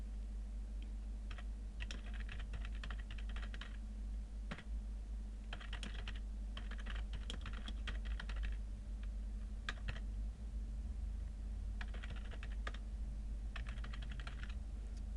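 Someone types on a computer keyboard in short bursts of rapid key clicks separated by pauses, over a low steady hum. The clicks are quiet and close.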